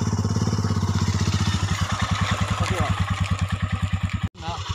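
A 2021 Royal Enfield Himalayan single-cylinder motorcycle engine runs close by with a steady, even thumping pulse, briefly cut off near the end before resuming.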